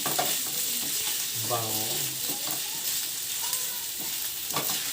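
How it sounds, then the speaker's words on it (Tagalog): Food being sautéed in a pan for adobong sitaw over low heat, a steady sizzle with stirring scrapes, under brief speech from a nearby voice. "Gisa-gisa muna tayo, guys."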